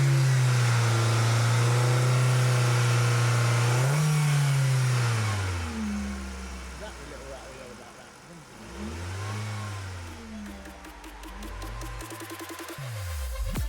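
A Nissan Qashqai engine cranks and fires up, then runs with a steady low rumble and a few revs rising and falling, close and loud, with a faint rattle noted beforehand.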